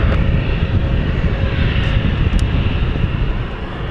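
A passenger jet airliner rumbles at London City Airport, a loud continuous broadband roar that fades slightly toward the end, with no talking.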